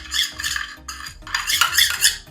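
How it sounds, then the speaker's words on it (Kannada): A spoon mixes a powder with coconut oil into a thick paste, giving close, scraping and clinking strokes against the bowl in several bursts, with no voices. "ಇದಿಷ್ಟನ್ನ ಫಸ್ಟಿಗೆ ಚೆನ್ನಾಗಿ ಮಿಕ್ಸ್ ಮಾಡ್ಕೊಳ್ಬೇಕು. ಇದು ಒಂದು ಪೇಸ್ಟ್ ಥರ ಆಗಬೇಕು."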